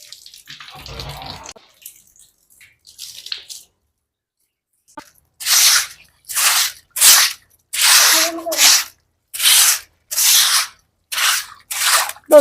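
Rhythmic scrubbing strokes come in a series of short, loud, evenly spaced bursts while a kitchen is washed, after a few quieter rubbing and splashing sounds at the start.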